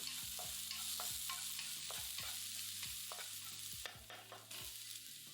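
Garlic, green chili and cooked rice stir-fried in a pan, a steady sizzle under repeated sharp scrapes of the spatula against the pan, close and fairly loud throughout.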